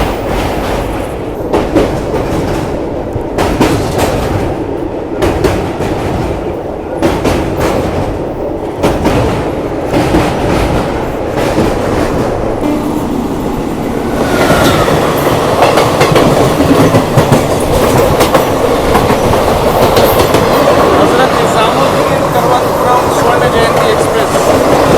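Train crossing the Penna river near Nellore, a steady rumble with rhythmic clickety-clack of wheels over the track, loud and continuous, swelling heavier in the second half as it rolls over the bridge.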